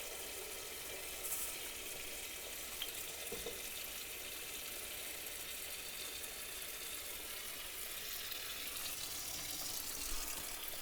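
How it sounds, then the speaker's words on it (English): Tap water runs steadily into a cooking pot holding chicken for ramen broth, a continuous faint rushing and splashing with no talk. "gonna fill our pot to cover our chicken with water"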